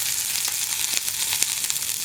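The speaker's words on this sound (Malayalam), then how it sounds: "ഇനി നമുക്ക് കുറച്ച് കറിവേപ്പില ചേർക്കാം." Curry leaves sizzle and crackle steadily in hot oil in a pan for a kadala thoran, a dense continuous fry with brief pops rising through it, close and fairly loud with no talk.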